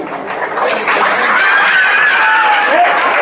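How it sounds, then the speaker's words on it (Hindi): School audience at an Independence Day celebration in a girls' inter college in India, clapping and cheering loudly and continuously to welcome the chief guest, with children's voices shouting over the applause. "जोरदार तालियों से स्वागत करो इनका, जो हमारे बीच मुख्य अतिथि बनकर आए हैं"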